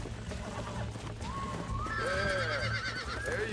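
A horse whinnies in Red Dead Redemption: a rising, wavering neigh that starts faint, then swells into loud, shaky calls over a steady low hum and background game noise.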